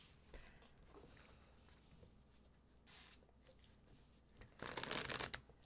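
Tarot cards are shuffled during a live reading, with soft papery riffles and slides coming in short bursts, one brief burst midway and a louder, longer riffle near the end, over quiet room tone.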